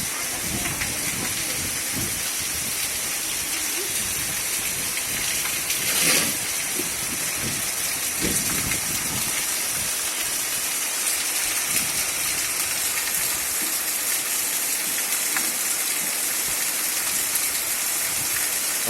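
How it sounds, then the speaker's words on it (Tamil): Heavy rain pouring steadily outdoors, a dense hissing wash that continues without pause throughout, loud and close, with faint scattered knocks and patters underneath. "அற்புதமான மழை பெய்து கொண்டிருக்கிறது"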